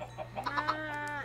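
A Minecraft chicken on PS3 gives a short series of soft, close clucks in a quick uneven rhythm, alone over a faint steady background hum.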